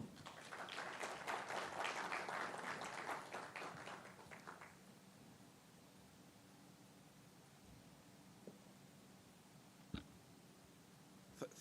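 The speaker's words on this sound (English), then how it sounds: "extend a warm and spirited applause as he takes center" Audience applause greets a speaker taking the stage at a Ministry of ICT and Google partnership launch, a dense burst of clapping that fades out after about four seconds into quiet room tone with a few faint knocks.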